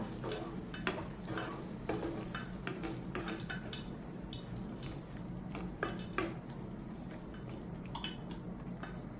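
Chili, turmeric and coriander powders frying in a pan for a fish curry, a dense, continuous sizzle mixed with scraping and light utensil clinks against the pan, fairly quiet and close, without speech.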